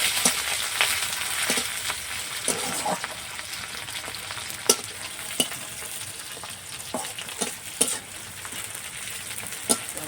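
Chopped onion frying lightly in oil with whole garam masala, bay leaf and mace, a steady close sizzle broken by sharp clicks and scrapes of stirring, with no talking.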